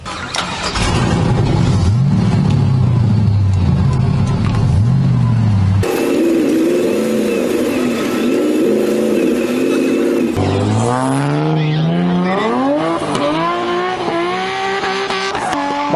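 A car engine revving hard and continuously, loud and close, with pitch sweeping up and down through several throttle pulls across three shifting segments, with no voices over it.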